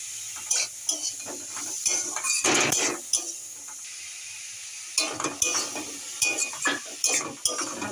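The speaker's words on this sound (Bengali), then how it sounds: "ভালো করে এটা একটু ভাজা ভাজা মতন করে নিতে হবে।" Beetroot, carrot and peas stir-fried in oil with cumin in a pan, a near sizzle punctuated by repeated spatula scrapes and metallic clinks, pausing briefly midway.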